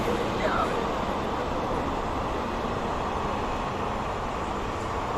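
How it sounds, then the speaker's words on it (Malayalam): A train passes near Cochin, giving a loud, steady broadband rumble that fills the whole five seconds, with voices talking over it. "ട്രെയിൻ."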